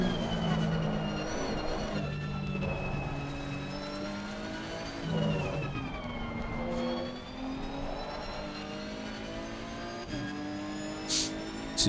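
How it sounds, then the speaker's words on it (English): Engine rumble and revving from a car in a sim racing game, a steady loud drone rising and falling with acceleration, with shifting pitch and occasional tire squeal, no talking. "So you've got the rumble of the engine, which is really cool."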